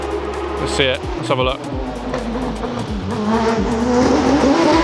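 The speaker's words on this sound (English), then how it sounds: "Very distracting, these cars." Road traffic rumbles past, with cars accelerating and a brief tire squeal near the start, while someone talks over the steady, loud engine noise close by.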